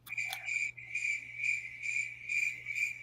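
A cricket sound effect chirps in rhythmic, evenly spaced trills, about six bursts in a row over a faint low steady hum, with no voices.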